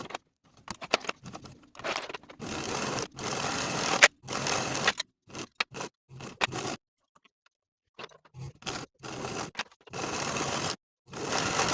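Short bursts of sewing machine stitching, stopping and starting repeatedly, as the folded edges of a pants extension and bias tape are edge stitched in place; close and moderately loud, with quiet gaps between runs.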